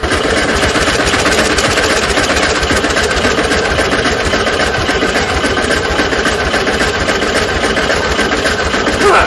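A 1972 VW Super Beetle engine cranks over on its first start attempt in over 30 years, a steady, loud, continuous mechanical churning with dense low rumble running unbroken through the whole stretch.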